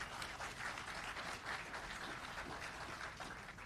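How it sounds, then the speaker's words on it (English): A business summit audience applauds in a steady, sustained patter of many hands, somewhat distant and even, with no voices. "if we can give them one last round of applause"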